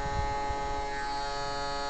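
An EMF paranormal detector is switched on and gives a steady electronic buzz, a constant tonal hum heard alone at low level for about two seconds.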